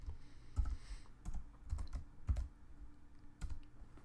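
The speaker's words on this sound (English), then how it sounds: "So I'm just going to type a couple characters." Several keystrokes typed on a computer keyboard at a desk, short soft taps in small irregular clusters separated by pauses, close and fairly quiet with no talking.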